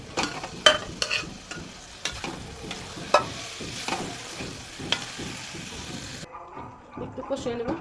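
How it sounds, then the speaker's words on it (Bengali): Chicken pieces sizzle loudly in a pan for biryani while a utensil scrapes and knocks in irregular bursts of stirring; toward the end the frying quiets and a voice may be faintly heard. "দিয়ে দেবো মুরগির মাংসগুলো।"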